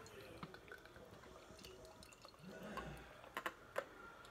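Triple dry-hopped NEIPA poured into a glass, soft liquid splashing and glugging with a few sharp clinks and drips near the end, close and fairly quiet.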